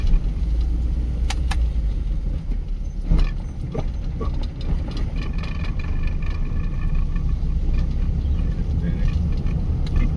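A car is driven slowly along Hajiganj Thana Road during a driving lesson, shifting into second gear, with a continuous close engine drone and intermittent mechanical clicks and clunks from the gearbox.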